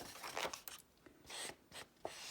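Scissors snip through paper in a handful of short, close, crisp cuts with brief gaps between them, with no voices.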